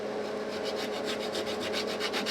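Fret leveling on a Fender MIJ Stratocaster neck with 300 grit abrasive: a steady, close rhythmic rasping of back-and-forth sanding strokes, about ten passes, with no talking.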